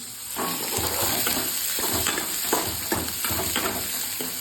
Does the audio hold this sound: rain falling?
no